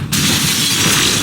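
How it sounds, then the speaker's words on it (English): Glass shattering in the puzzle video game Magrunner, a loud, bright crash that bursts in abruptly and then sustains as a dense spray of tinkling shards over a low rumble. "Broken glass."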